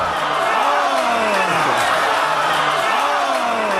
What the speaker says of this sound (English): Oh, the crowd is shocked, man, as I am, and you are.